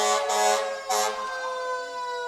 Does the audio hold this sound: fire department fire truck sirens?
yes